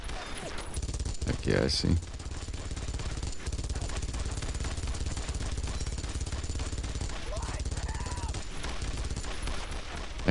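Gunfire in the World War II shooter Brothers in Arms: Road to Hill 30, a dense ongoing rattle of rifle and machine-gun shots with a louder burst early on, continuing under brief speech.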